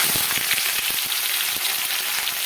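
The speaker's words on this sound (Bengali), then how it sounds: "এখানে পেঁয়াজটা দিয়ে মিডিয়াম ফ্লেমে রেখে আমি পেঁয়াজটাকে ভাজতে থাকবো" Sliced onions sizzle in hot oil over a medium flame with cinnamon, green cardamom and bay leaves, a steady close crackle broken by small spattering pops, with no voices.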